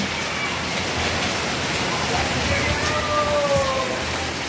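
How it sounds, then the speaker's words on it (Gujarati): Heavy rain pours down steadily in a dense, loud hiss, with faint voices in the background. "જો વરસાદ આવે છે બહુ"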